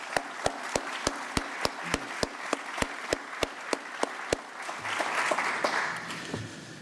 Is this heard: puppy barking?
no